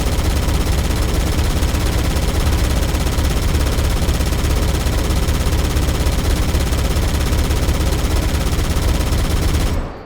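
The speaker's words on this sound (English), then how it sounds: "Figured we'd show off the turret of the Warthog to round us out." The Warthog turret in Halo: Campaign Evolved fires a loud, unbroken stream of rapid gunshots for about ten seconds, then cuts off abruptly.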